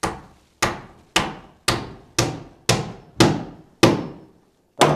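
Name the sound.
hammering nails into wooden floor boards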